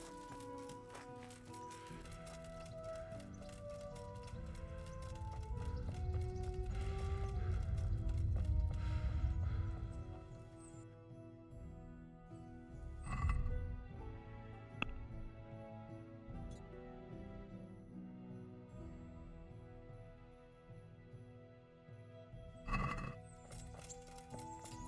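Horse whinnies and clip-clopping hooves in Kingdom Come: Deliverance over a layered musical background, with a louder swell early on and a few sharp accents later.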